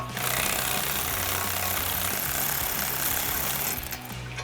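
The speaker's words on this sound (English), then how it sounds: "we might be able to get an electric ratchet in there to finish it off" Electric ratchet loosening a bolt on a 2015-2025 Ford Mustang rear wheel hub, a continuous close rattling whir for about four seconds before it stops.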